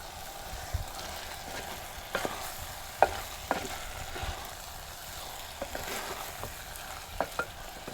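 Green tomato dropped into hot oil in a home kitchen pan, with a steady sizzle under scattered stirring scrapes and clicks from a utensil over eight seconds, no talking.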